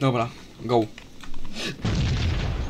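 A Molotov cocktail bursts into a loud whooshing fireball in the Max Payne video game, a sudden broad blast that follows a man's short spoken remark and then sustains as a roaring crackle.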